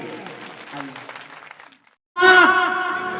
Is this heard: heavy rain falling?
no